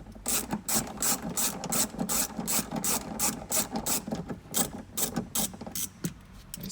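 A 6mm ratchet winding out door handle screws on a Mazda BT50 ute, giving steady close rapid clicking in repeated strokes throughout, alone with no talking.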